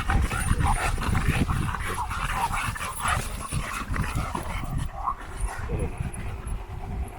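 Dogs moving around close by, with panting, small whimpers and scattered yips over a busy outdoor background, while people talk.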